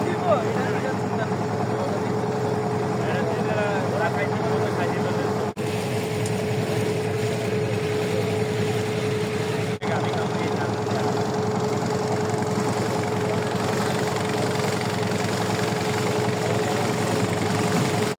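A motorboat cruising on Kaptai Lake near Rangamati, its engine holding a steady, loud droning hum for the full stretch with wind and water noise mixed in, heard close from aboard.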